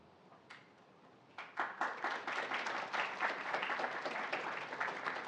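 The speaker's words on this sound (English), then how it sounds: "I never get applause for prayer." An audience at a campus life awards ceremony bursts into applause after a prayer, with sustained clapping from many hands after a quiet opening, moderately distant and steady until the end.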